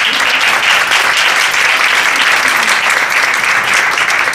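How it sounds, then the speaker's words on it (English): Dense, sustained applause from a conference audience for the panelists of a Harvard panel on gender, poverty and opportunity, loud and even throughout with no talk over it. "I think we should give our panelists a round of applause"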